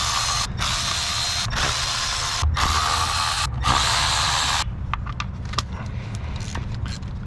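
A ratchet checks and tightens the spark plugs on a Suzuki Grand Vitara 2.7L engine, close and loud: several rapid clicking bursts separated by short pauses, then quieter scattered ticks and clicks, with no talking.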